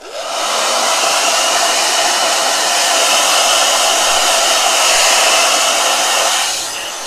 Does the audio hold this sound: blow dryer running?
yes